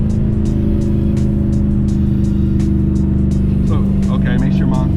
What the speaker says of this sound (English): going through the gears like that in manual is really fun